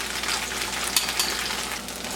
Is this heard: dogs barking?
no